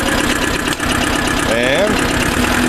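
A 1980 Ford 1200 diesel tractor engine idles close by with a steady, rough, knocking drone that holds throughout, and a brief voice-like sound rises over it midway.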